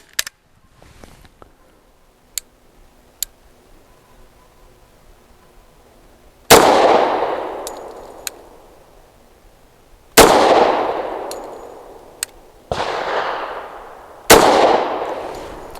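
A Taurus TH45 .45 pistol fires Ammo Inc. 230 grain hollow point rounds outdoors, giving four loud, sharp shots spaced a few seconds apart, each with a long ringing decay, plus faint distant pops and metallic clicks between them.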